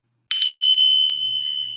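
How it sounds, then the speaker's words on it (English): Tingsha bells strike twice, the second strike following the first almost at once, each a bright, piercing metallic ring, and the second tone lingers in a long, shimmering sustain that slowly fades. "We'll be using Tingshaw bells"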